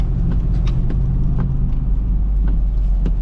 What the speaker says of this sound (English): That's another reason I'm using the dump truck this morning.